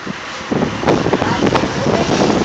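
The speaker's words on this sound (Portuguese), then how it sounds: "Chegou o vento." Strong wind arrives ahead of a storm in Londrina, Brazil, roaring and buffeting the microphone in loud, continuous gusts.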